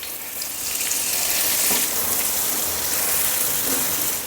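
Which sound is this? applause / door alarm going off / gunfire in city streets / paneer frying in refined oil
paneer frying in refined oil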